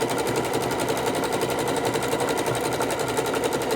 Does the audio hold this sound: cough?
no